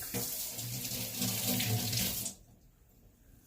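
Tap water runs steadily into a kitchen sink while hands are washed during meatball preparation, a close, loud rushing flow that stops abruptly partway through, leaving near silence.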